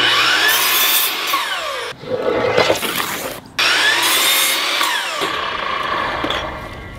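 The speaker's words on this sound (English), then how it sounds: "I then cut some 1x2 boards that I would be attaching vertically to the wall." Continuous rasping saw strokes cutting through 1x2 wooden boards, loud and close, with two short pauses between bursts of steady back-and-forth sawing.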